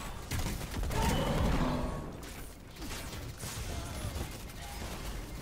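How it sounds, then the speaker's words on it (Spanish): A burst of rapid, crackling video game gunfire with mechanical clatter, loud at first then thinning into scattered pops and rattles, no talking. "Eso sonó como un montón de disparos."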